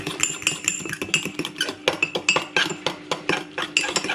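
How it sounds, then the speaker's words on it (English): A metal utensil whisks mug cake batter in a mug, making rapid, close, bright clinks and taps against the sides in an uneven rhythm. "I'm just going to make sure this is all whisked up properly"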